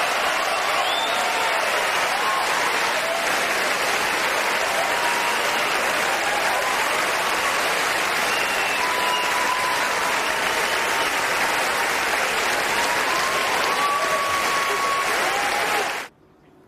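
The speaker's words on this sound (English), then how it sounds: "Listen to the level of cheering when his name is called out by Harrison Ford." A large Oscars ceremony audience breaks into loud, sustained cheering and applause. Dense, roaring claps fill the room for about sixteen seconds, then stop abruptly.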